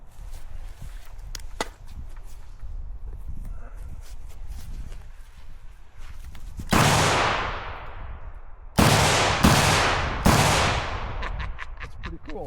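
A rifle is fired outdoors, four sharp loud cracks, the first standing alone and three following in quick succession later, with faint handling noises and footsteps between them.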